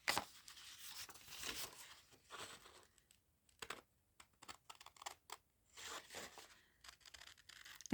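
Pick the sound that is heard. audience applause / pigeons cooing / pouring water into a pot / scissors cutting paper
scissors cutting paper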